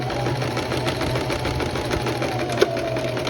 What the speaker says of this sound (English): Double stitch right there, and then do the same for your other armhole.